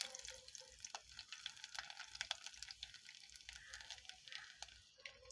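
Garlic fries in hot coconut oil in a pan for a prawn roast, making a soft, continuous crackling sizzle. Faint spits and pops run steadily throughout, heard from fairly close.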